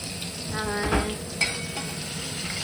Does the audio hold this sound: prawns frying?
yes